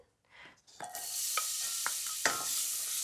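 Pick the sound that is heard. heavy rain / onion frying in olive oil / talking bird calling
onion frying in olive oil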